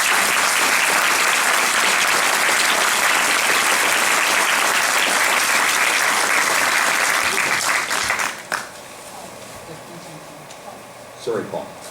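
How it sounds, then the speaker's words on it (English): Loud, sustained audience applause fills a community hall at a municipal election all-candidates meeting, dense clapping for about eight seconds before dropping away to room noise with a few scattered claps. "they deserve a round of applause"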